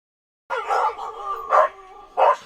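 Several dogs on a sled-dog trail bark loudly and close up, with a burst of barking followed by two further sharp outbursts over a continuous yelping background.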